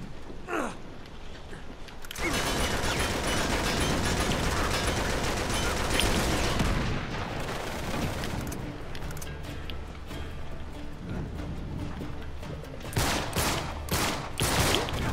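Sustained gunfire in the game Uncharted 3: Drake's Deception, a dense fusillade roaring continuously for most of the clip after a quieter opening, with sharper bursts of shots near the end.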